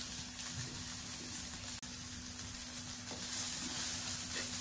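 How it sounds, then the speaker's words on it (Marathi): Kalundra fish fry in oil in a village kitchen, a soft, even sizzle holding steady and fairly faint throughout, with no voices. "आता हे मासे होत ना ते मी भाजून घेतोय"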